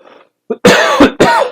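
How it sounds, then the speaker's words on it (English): Two loud, harsh coughs close to the microphone, preceded by a brief throat clearing. "that's ironic, needing to cough in the middle of this"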